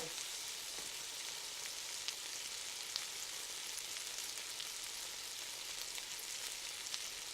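Mushrooms fry in a pan for fried rice, a steady soft hiss of sizzling with a few faint clicks of stirring, quiet and unbroken throughout.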